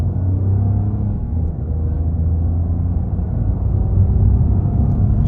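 A Toyota Corolla 1.5 Dream with a naturally aspirated engine accelerating moderately, not at full throttle, with the window open: a steady low engine drone and road rumble, loud and continuous, with no talk.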